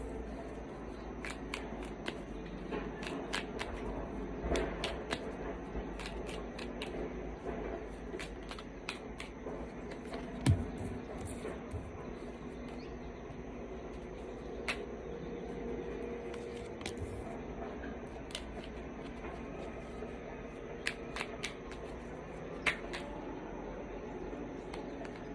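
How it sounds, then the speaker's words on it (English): Tarot cards being shuffled and drawn during a reading, a steady papery riffle of card flicks and soft snaps running throughout, close and fairly quiet, with no talk. "air signs, I'm going to pull some cards for you"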